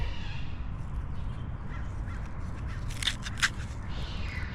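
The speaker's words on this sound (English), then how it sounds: "My parrots are loud this morning." Several short, harsh parrot squawks ring out over steady low rumbling background noise, two louder calls standing out near the end.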